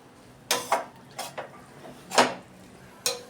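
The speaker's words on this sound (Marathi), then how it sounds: "आता हे सॉस आणि मसाला टाकून आपण हे असं हलवून घेऊया." A spoon stirring pasta sauce, tomato sauce and masala in a pan gives five or six sharp clinks and scrapes against the metal, spaced irregularly, close and fairly loud.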